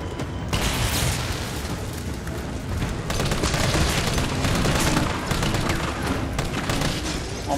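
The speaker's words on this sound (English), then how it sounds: "Nice shooting, Tex" Dense, continuous gunfire and booming explosions from a Resident Evil 3 Remake battle sequence, loud and unbroken for several seconds, with no talking over it.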